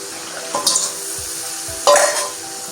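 A spice masala for a potato, pointed gourd and hilsa curry gets stirred in a pan, a steady low sizzle broken by two louder scraping stirs, close and without talk.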